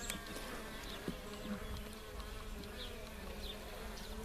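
Honey bees in a top bar hive hum in a steady, soft buzz during the season's first inspection, with a few faint knocks and no talking.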